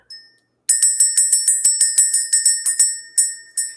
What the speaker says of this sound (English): Before I even started to ring the bell started ringing.